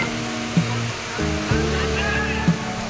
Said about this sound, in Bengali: সেই মুহুর্মুহু সাদা পানি পড়া শব্দের তালে তালে একবার দেখে নিন